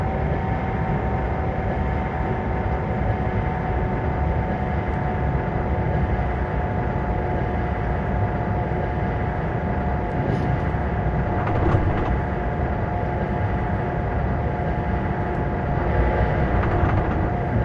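Steady, loud rumble and hum of a passenger express train from Hamburg to Hannover in Train Simulator 2021, continuous and close, with no talk.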